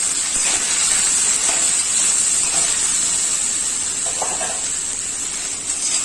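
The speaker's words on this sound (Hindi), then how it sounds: "इसे लाल होने तक अच्छे तरीके से भून लेंगे हम इसको" Chopped okra (bhindi) frying in a pan, giving a steady close hiss and sizzle that runs unbroken throughout.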